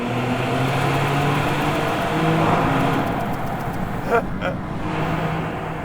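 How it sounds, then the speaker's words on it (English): A Maserati's engine roars through a tunnel, a steady droning drive with some revving and a sharp burst or pop near the end, echoing off the walls. "Tunnel run with a Maserati."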